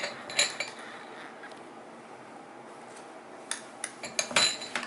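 A spoon stirs raw milk and tomato puree together in a bowl, giving a few sharp metallic clinks against the rim in two short bursts, close and fairly quiet, with no voices.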